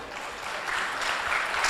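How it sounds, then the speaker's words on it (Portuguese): Audience applause at a law conference at the University of Lisbon law faculty: a steady, fairly loud wash of clapping that swells slightly toward the end, with no voices over it. "Uma salva de palmas, por favor."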